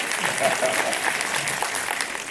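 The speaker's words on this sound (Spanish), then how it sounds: "Un aplauso a Carlos" Audience at a master class breaks into steady applause, a dense wash of clapping with a voice briefly audible underneath.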